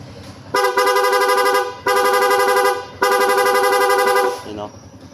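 Three long, loud blasts of a bright two-tone rewired dual horn on a Yamaha Sniper 155 motorcycle, each lasting about a second, separated by short gaps, with a brief voice at the end.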